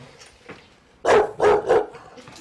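A young puppy barks three times in quick succession, loud and close, after a quiet stretch with faint background noise.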